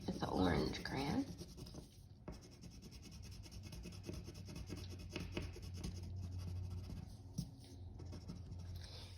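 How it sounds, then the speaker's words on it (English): An orange crayon rubbed across paper to fill in a fall leaf drawing, a close, soft scratchy rasp of quick strokes that stays steady throughout, with a person talking over it. "I just color in this whole section with the orange crayon"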